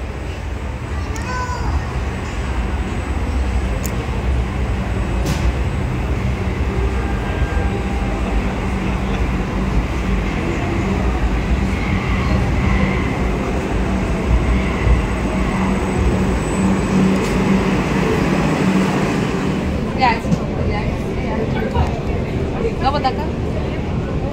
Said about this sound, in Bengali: মেট্রো আসছে